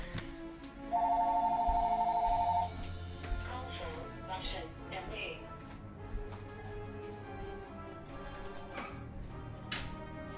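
A phone rings close by with a steady electronic trill lasting about two seconds, then stops, leaving faint background game sounds and some speech.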